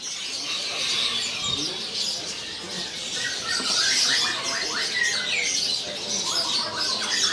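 Gacor canaries sing in a bird shop kiosk, a busy overlapping chorus of bright trills, chirps and squawks, steady and fairly near, with no voices.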